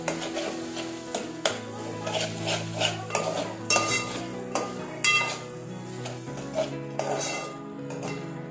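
A spoon works through spicy noodles in an uncovered pan, producing a run of clinks and scraping knocks against the metal over soft background music.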